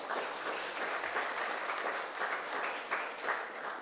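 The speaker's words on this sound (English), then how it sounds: "A round of applause again, please." Audience applause for a panel at a school town hall, a continuous even wash of many hands clapping with slight surges, heard moderately from within the room.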